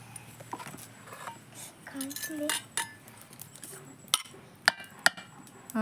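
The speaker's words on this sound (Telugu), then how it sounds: "ఇప్పుడు అది మనం చికెన్లో వేసి ఒకసారి మిక్స్ చేయాలి" Ginger paste being stirred into chicken in a clay pot for a home-cooked curry, with scattered metallic clinks and scrapes of a utensil against the vessel, soft and intermittent, a few sharper taps near the end.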